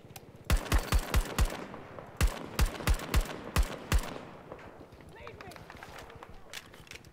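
Gunfire in Battlefield 2042 comes as two quick rapid bursts of sharp, close shots, then quieter scattered battle noise and distant shots.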